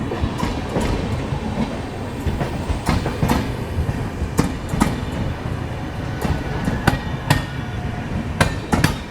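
The Anand Vihar–Ranchi passenger train rolls past with a loud, rhythmic clickety-clack of wheels over rail joints, sharp clanks repeating throughout over a steady roar.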